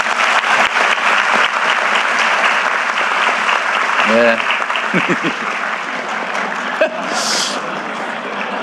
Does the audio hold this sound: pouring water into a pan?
no